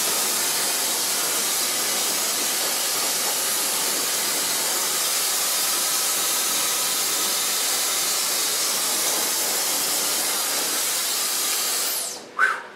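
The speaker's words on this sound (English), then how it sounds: "So far blow drying." A hair dryer blow drying a platinum pixie haircut, a steady loud broadband hiss of rushing air holding evenly for most of the stretch, then cutting off with a brief rustle at the end.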